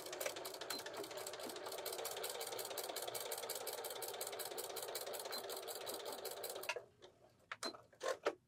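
A sewing machine stitches layers of a fabric tutu along a quarter-inch seam, a close, steady rapid chatter for several seconds before stopping, followed by a few sharp clicks and handling knocks.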